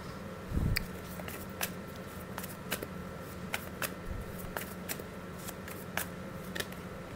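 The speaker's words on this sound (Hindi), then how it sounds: "I'll pull few cards" Tarot cards being shuffled and drawn, heard as a string of short, crisp flicks and snaps at an irregular pace over a steady low room hum, with a couple of soft thumps near the start.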